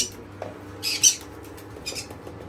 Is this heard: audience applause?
no